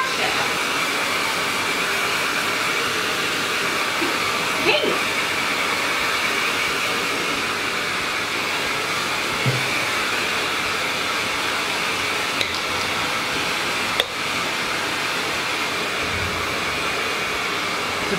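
A hair dryer blows steadily on dyed pink hair in a home, a loud continuous whooshing hum that holds for the whole stretch, broken only by a few faint knocks.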